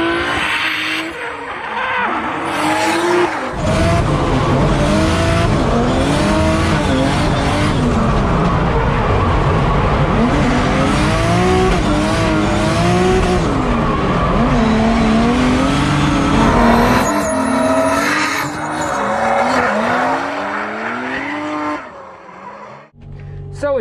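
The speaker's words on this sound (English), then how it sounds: "Practicing, mastering the skill of drifting is the thing what we are here for." A 900-horsepower Nissan S15 Silvia drifts during tandem training, heard onboard. The engine roars loud and sustained, with its pitch rising and falling through the slides under continuous tire squeal, then fades near the end.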